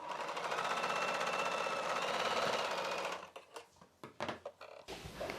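A sewing machine stitches a straight seam along the main dart of a cross-cut blouse, running as a fast, continuous mechanical whir for about three seconds, then slowing into short bursts and clicks as the fabric is adjusted.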